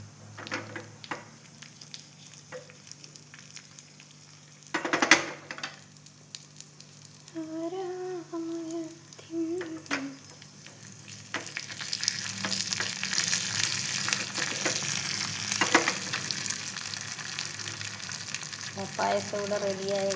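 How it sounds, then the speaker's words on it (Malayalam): Cashews and raisins frying in ghee for payasam, a soft sizzle that swells into a steady louder crackle partway through, with occasional stirring knocks and brief voices in between. "അപ്പോൾ ഇതാ അണ്ടിപ്പരിപ്പ് ഞാൻ കുറച്ചൊന്ന് നെയ്യിൽ വാട്ടിയിട്ട് ഇടുന്നുണ്ട്"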